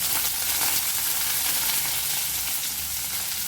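Mustard seeds, urad dal, onion, green chili and curry leaves sautéing in hot oil, a steady close-up sizzle and crackle running continuously with faint stirring and no voices.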